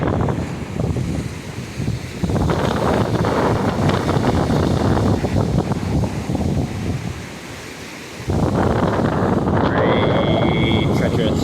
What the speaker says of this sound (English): Gonna be some really powerful gusts right now, blowing across the sand